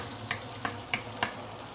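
Prawns frying in a wok for Maggi mee goreng make a soft continuous sizzle, with four evenly spaced light clicks or taps from a utensil, fairly quiet and close.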